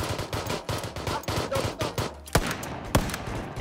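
Gunfire in a video game with two enemies inside a house: repeated sharp shots and bursts crowd the whole stretch, with two louder close reports standing out near the end.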